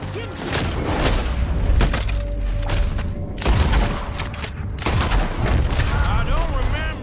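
Dense gunfire rattles and booms through a Red Dead Redemption 2 shootout, loud bursts and heavy thuds layered with overlapping character voices and game sound.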